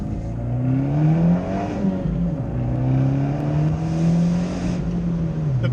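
A modified Abarth 124 Spider drives along, its engine note steady and close with smooth rises and dips in pitch as it pulls through gears, loud and continuous with no talking.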